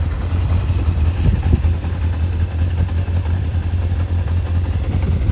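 A Zephyr 750 motorcycle engine idles steadily from a cold start, a loud, close, continuous low throb with faint mechanical clatter and no talk.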